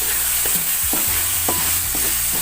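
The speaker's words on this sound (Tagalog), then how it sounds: "nagisa na ako ng bawang, sibuyas, kamatis" Garlic, onion and tomato sautéing in a pan, a loud steady sizzle close by with a few sharp stirring scrapes of a utensil against the pan.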